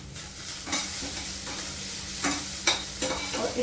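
Okra and sweet corn stir-fried in a pan, a continuous sizzle broken by several sharp scraping strokes of a spatula, fairly close and with no talk.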